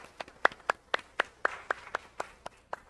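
A church congregation at a Sunday worship service claps in a loose, fairly quick rhythm of about a dozen distinct claps, moderately near and alone without talk.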